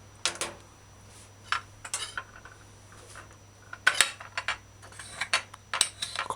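A knife slicing a tomato into strips on a cutting board, with a series of sharp, close taps and clicks in an uneven rhythm, several clustered together, over a quiet low hum.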